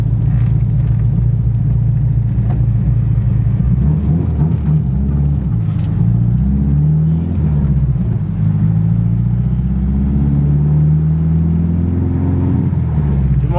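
Chevrolet Monza with an aspirated engine and stainless muffler, a loud, steady deep exhaust rumble with rising and falling revs, heard from close by inside the car.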